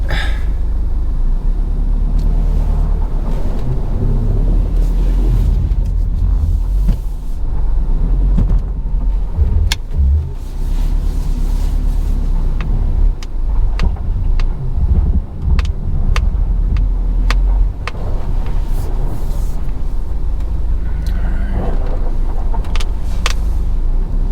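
Inside a modified 2015–2021 Subaru WRX STI driving on a road on a cold day: a steady low engine and road rumble fills the cabin throughout, with occasional small clicks and rattles.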